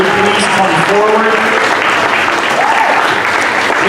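A school assembly audience claps steadily throughout in a loud, continuous round of applause, with faint voices underneath.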